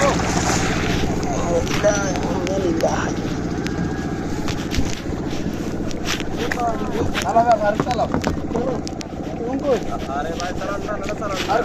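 Trawler boat engine chugging steadily at close range on open water, under wind buffeting and men calling out directions to the boatman as he steers slowly.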